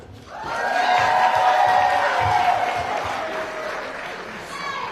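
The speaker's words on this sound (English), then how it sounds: "This would be an appropriate time to clap" An audience at the Colossalcon 2018 in-character cosplay contest applauds and cheers as the next contestants come up, a steady wash of clapping with some whoops, swelling early and then easing off.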